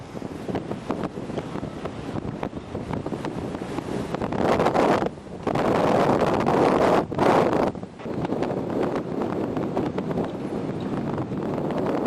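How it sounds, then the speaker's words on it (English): Strong wind buffets the microphone aboard a sailing yacht in rough, roaring gusts, swelling louder in the middle with brief lulls. "It's a bit windy up here."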